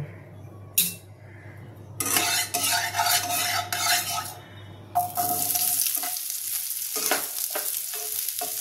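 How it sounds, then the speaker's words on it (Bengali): Cauliflower frying in a hot wok of mustard oil: bursts of sizzling and spattering interrupted by stirring and scraping clatters of a utensil against the pan, close and fairly loud, no speech. "ফুলকপিটা হালকা করে ভাজবো, ভেজে তুলব।"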